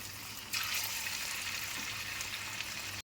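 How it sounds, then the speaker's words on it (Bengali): After a short quiet start, a sudden burst of sizzling as lentil cake pieces drop one by one into hot oil in a wok, then steady crackling frying until it cuts off. "সেইগুলো এবার এই তেলের মধ্যে ছেড়ে দেবো একটা একটা করে"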